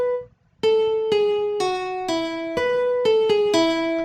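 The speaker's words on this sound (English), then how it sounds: "And over here is the classic guitar," A classic guitar plugin plays a riff of eight clean, evenly spaced notes stepping down and back up in pitch, each bright and sustained with no twang, loud and alone after a brief opening note.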